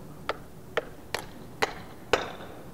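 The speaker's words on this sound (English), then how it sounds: "I'm going to hit the inner race, which is going to push the bushing onto the control arm" Five sharp metallic strikes from a heavy hammer land at a steady pace on a bushing's inner race, pressing it onto a BMW E46 control arm, each a loud ringing clank, the last one hardest, with no talking.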